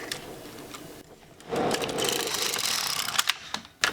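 An LK150 knitting machine carriage is pushed across one row of a sock, giving a close, continuous mechanical rattling and clicking whir with a few sharp knocks near the end.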